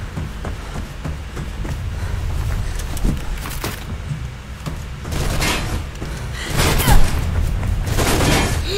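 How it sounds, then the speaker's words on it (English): Sniper rifle fire in the video game Mirror's Edge: several loud, sharp booming shots spaced a second or two apart over dense game noise and music, with no talking. "So she's shooting at me with a sniper rifle"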